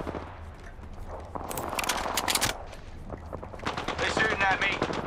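Automatic gunfire in the battle royale game Apex Legends comes in dense bursts, loud and close, mixed with sharp impacts and game effects while someone talks over it.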